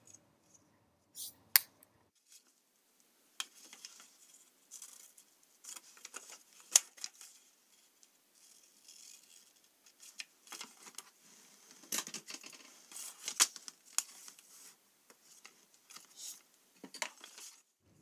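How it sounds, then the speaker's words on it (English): Scissors snip around the edges of folded card stock sleeves in a series of short, close, crisp cuts with pauses and light paper handling between them. "we're going to cut out those outside edges where the score lines meet"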